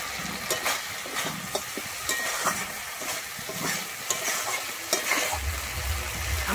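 Spiced masala for a banana flower dish sizzles in hot oil in a pan while a spoon stirs and scrapes it in irregular strokes, close and clear, with no talking.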